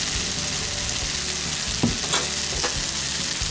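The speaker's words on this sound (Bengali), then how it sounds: "ভালোভাবে মিশিয়ে নিলাম।" Ghee and garam masala being stirred into a vegetarian dish frying in a pan, a dense continuous sizzle with a couple of soft spoon scrapes partway through; close, steady and alone without talk.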